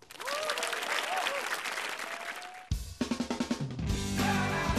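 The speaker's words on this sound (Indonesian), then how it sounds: "Tepuk tangan untuk Dadang." Applause from a television studio audience welcoming a stand-up comic, a burst of clapping that breaks into loud music with punchy beats, then a sustained chord.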